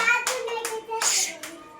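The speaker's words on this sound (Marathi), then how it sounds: "छान टाळ्या वाजवा सगळ्यांनी" Children clap their hands in a classroom activity, four short bursts of claps in quick succession with a voice faintly in the background.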